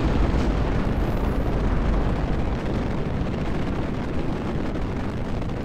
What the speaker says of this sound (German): Und die Rakete kommt gut weg.